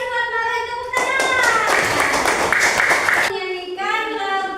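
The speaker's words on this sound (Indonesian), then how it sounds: "Oke, terima kasih buat Mara, tepuk tangan." A class of schoolchildren claps hands in a dense burst of about two seconds, set between stretches of children's voices speaking or singing before and after.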